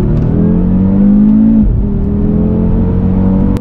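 A stage 2 Audi RS3 with a Milltek exhaust accelerates hard, its engine loud and close as the pitch climbs steadily, drops briefly at a gear change, then rises again.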